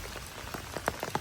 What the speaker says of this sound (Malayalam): അപ്പോഴേക്കും നല്ല മഴ തുടങ്ങിട്ടോ.